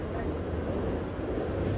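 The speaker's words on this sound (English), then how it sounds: "This is a D train via the F line." A New York subway D train running over the F line toward Coney Island gives a dense, steady rumble and rail roar, loud and constant from inside the car, with no clear talk.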